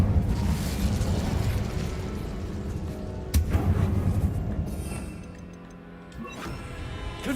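A fire spell cast in a Harry Potter wizarding video game, heard as a loud crashing, rumbling burst with a sharp crack around the middle, then settling into a lower roar before a final smaller hit.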